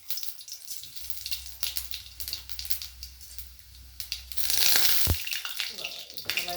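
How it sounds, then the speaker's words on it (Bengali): Whole cumin and coriander seeds sizzle in hot mustard oil as a soft, steady frying hiss that swells louder toward the end, with a voice speaking over it. "এবারেতে একটু ফোড়ন দিয়ে দিচ্ছি এবং গোটা জিরে আর গোটা ধনে।"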